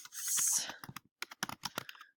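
Fast typing on a computer keyboard, with a burst of quick close clicks at first and then irregular separate keystrokes, alone with no talking.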